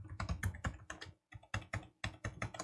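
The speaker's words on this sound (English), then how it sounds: "Type in my password." A password is typed on a computer keyboard: quick, close keystrokes in short bursts with a brief pause midway, fairly quiet and with no voices.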